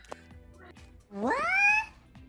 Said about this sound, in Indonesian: Tadi ada kucing.